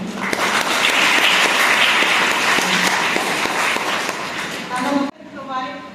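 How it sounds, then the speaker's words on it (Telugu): Loud, dense clapping from an audience at a body and organ donation awareness gathering in Anantapur, sustained for about five seconds before cutting abruptly to a voice speaking. "గట్టిగా చప్పట్లు కొట్టాలి"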